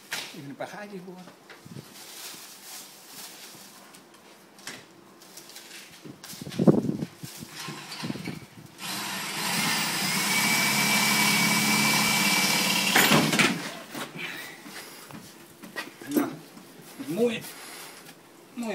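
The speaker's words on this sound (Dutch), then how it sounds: "Even een paar gaatjes boren." Power drill boring a few holes while mounting a generator on a camper, a high whining run that builds and holds for several seconds near the mic, with people talking before and after.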